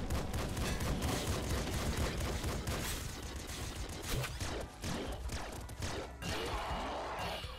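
Double laser gun fire in the Nuclear Throne video game comes as dense, rapid bursts of crackling shots and impacts layered over busy game noise, sustained and fairly loud throughout.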